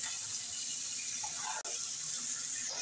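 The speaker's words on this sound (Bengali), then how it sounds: "এবার আমি জল দিয়ে দিচ্ছি" Water poured steadily into a cooking pan holding spiced fish masala with mustard paste, a continuous close splashing gush that runs without a break and with no talking.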